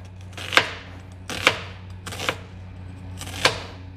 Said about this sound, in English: I got my half onion and I'm slicing it into